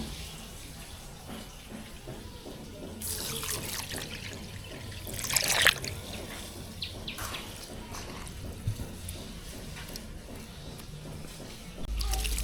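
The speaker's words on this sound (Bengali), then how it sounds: "খুদ ভাত রান্না করার জন্য খুদগুলো এখন পরিষ্কার করে ধুয়ে নেব।" Broken rice (khud) is washed by hand in water, with soft trickling and sloshing close by and a louder splash burst midway, among quieter swishes and dribbles.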